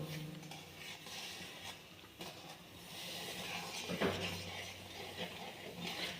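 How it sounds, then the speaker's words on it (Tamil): Roasted rava is stirred continuously into boiling water in a pot for upma, a faint scraping and soft patter of a spoon against metal with a light clink midway, no talk. "அந்த ரவையை வந்து கைவிடாமல் கிண்டிகிட்டே போடணும்"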